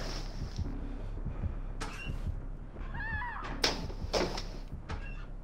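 A house cat gives a short meow midway, close by and fairly faint, among soft thumps and household knocks.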